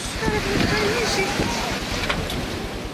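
Strong wind roars steadily through a windstorm high among apartment buildings, a dense, continuous rush with gusty buffeting on the microphone and voices speaking over it.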